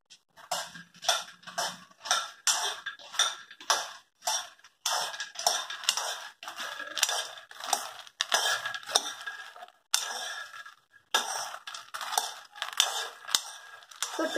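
Makhana being stirred in a pan, with rapid, rhythmic rattling and scraping strokes that repeat steadily and loudly close by, pausing briefly now and then.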